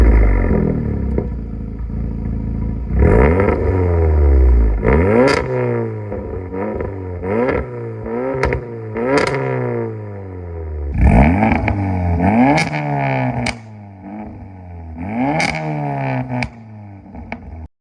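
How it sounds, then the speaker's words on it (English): Stage 2 VW Golf R Mk7.5 with an X-Force exhaust revving hard in repeated blips, each rising then falling off with crackle, loud and close with no talk. "So this is the X-Force exhaust. So it's quite more of an Asbo style exhaust, as people say. Quite loud"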